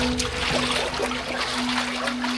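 Water running along a footpath: a steady broadband rush with a trickling texture, fairly close, under a faint constant hum.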